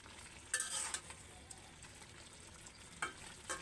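Drumstick curry being stirred in a pan with the lid lifted: a faint scraping, sizzling stir near the start, then a couple of brief utensil scrapes later over a quiet simmering background.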